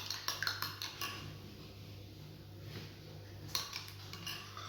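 Two eggs beaten in a bowl, with quick bursts of utensil clicks against the bowl at the start and again near the end, separated by a quieter stretch.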